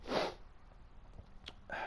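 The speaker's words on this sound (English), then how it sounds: "Also gonna sneeze." A single loud sneeze bursts out close by at the start, followed by quiet room tone with faint clicks and a brief breathy sound near the end.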